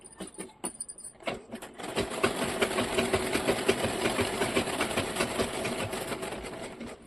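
Sewing machine stitching a padded blouse, a few short starts and clicks and then a steady, close, continuous rhythmic whir that runs to the end.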